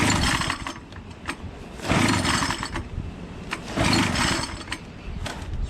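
A Poulan PXT12538 lawn tractor engine on choke cranking without starting, two loud surges of starter grinding and sputtering a couple of seconds apart over a rough mechanical churn, close by.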